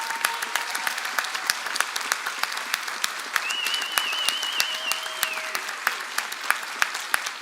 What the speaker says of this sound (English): So let us give a round of applause to all of our candidates.